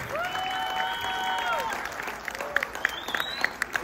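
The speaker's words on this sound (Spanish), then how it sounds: "ese aplauso también para Joana" Guests at a combined graduation and eighteenth-birthday party applaud in a steady, busy wash of clapping with a few sharper claps near the end, while a person speaks at a distance.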